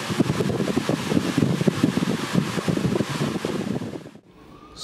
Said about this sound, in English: Sorry about the fan noise here,